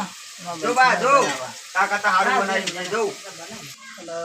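A spice tempering (vaghar) hisses in hot oil in a rustic village kitchen with a clay stove, a short sizzle under overlapping talk from nearby people.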